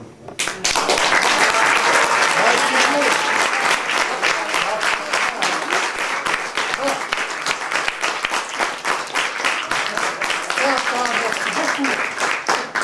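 Loud, sustained audience applause fills a French café-theatre comedy show, dense clapping running steadily from start to finish with no voices rising above it.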